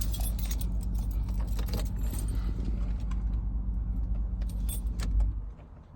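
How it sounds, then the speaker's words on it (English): Keys jangle and clink continuously inside a car with the engine idling, close and fairly loud over a steady low rumble, with the rattling stopping near the end. "I just took the keys out a second ago."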